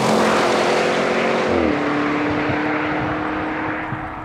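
Audi RS6 estate with a 600 bhp twin-turbo V8 and all-wheel drive, loud and close, its engine roaring with a dense harmonic drone that drops in pitch partway through, then holds steady and fades slightly.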